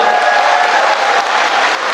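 Sustained, dense applause from a big crowd at a neighborhood redevelopment briefing hall, loud and even throughout, with a faint steady tone underneath.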